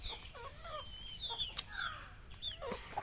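Domestic household chickens cluck in a morning farmyard: repeated short, bright clucks and calls from several birds, some close and some farther off, over a steady background hiss.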